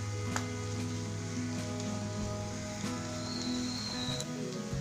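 Ginger garlic paste sautéing in a pan for pepper chicken, a quiet, steady sizzle with faint crackles over a constant low kitchen hum, no talking.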